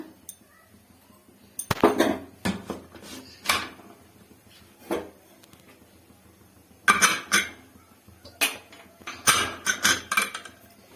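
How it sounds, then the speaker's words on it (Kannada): Pressure cooker lid being closed over mutton sambar, a series of sharp metallic clanks and knocks in irregular bursts, fairly close, with quiet gaps between them. "ಕುಕ್ಕರ್ ಕ್ಲೋಸ್ ಮಾಡ್ತೀನಿ ಈಗ"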